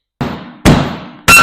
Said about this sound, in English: I used 2 different hammers and a piece of wood.